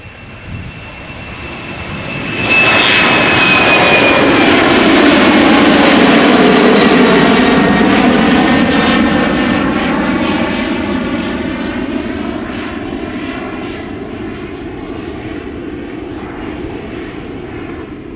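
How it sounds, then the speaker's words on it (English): An Embraer 190 jet airliner departing for Oslo surges suddenly into a loud, close roar with a high whine, then slowly fades as it climbs away, its tone sweeping downward as it passes. "Got another Embraer 190. This one is going to Oslo."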